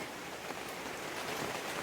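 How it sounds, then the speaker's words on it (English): Steady rain falling during indoor tomato seedling transplanting, a dense, even broadband hiss of drops on a surface that holds constant throughout with no voices. "That rain's really picking up."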